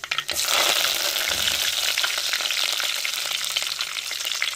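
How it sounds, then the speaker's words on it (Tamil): Mustard seeds, fenugreek and curry leaves hit hot oil and sizzle loudly, with crackling spatters that begin sharply and settle into a steady, close fry. "கடுகு போட்டுக்கிறோம் ரெண்டு வெந்தயம் போட்டுக்கிறோம் கருவேப்பிலை போட்டுக்கிறோம்"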